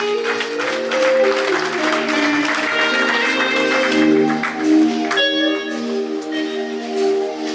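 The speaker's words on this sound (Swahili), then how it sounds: "Piga makofi yako kwa Bwana Yesu" A church congregation claps for Jesus during worship, a loud, steady wash of handclaps under sustained musical tones from instruments.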